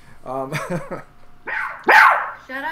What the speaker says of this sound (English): this yapping dogs do not make for great YouTube videos